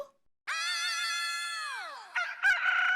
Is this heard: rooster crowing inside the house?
yes